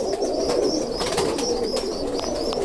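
Roller pigeons coo in a low, steady murmur, with several birds overlapping close by and repeated higher chirps above the soft, continuous warble.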